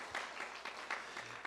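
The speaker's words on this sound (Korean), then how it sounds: "박수로 한번 격려해 주시죠." Congregation clapping briefly in a church service after a hymn, a short run of soft, roughly regular claps.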